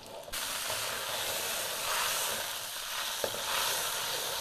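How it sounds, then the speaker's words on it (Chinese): Pre-steamed frozen eggplant fries in a wok with scallion and ginger, giving a loud, continuous hissing sizzle, with a single utensil knock partway through. "爆香之后，咱这个酱油炖它。"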